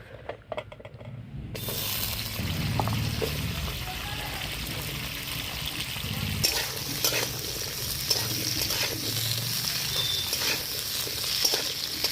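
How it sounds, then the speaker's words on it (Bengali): Flat beans and vegetable stalks fry in hot oil for a mixed-vegetable sukto, giving a steady close sizzle with occasional stirring and clatter in the pan. "তেল গরম হয়ে গেছে এর মধ্যে আমি সিম আর ডাটাটা ভেজে নেবো"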